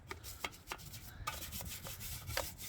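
A brush scrubs a Honda CL350 motorcycle covered in suds, giving soft, quiet, repeated rubbing strokes close by, with a few light taps and no talk.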